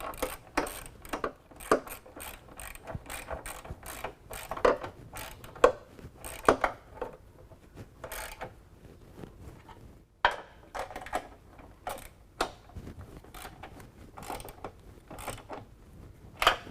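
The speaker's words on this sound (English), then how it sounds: "Now we can tighten up our rear pinch weld bolts." A ratchet tightens the rear pinch weld bolts while hooped side bars are fitted to a 2018 Jeep Wrangler, giving short bursts of sharp mechanical clicking with pauses between strokes, close and fairly quiet.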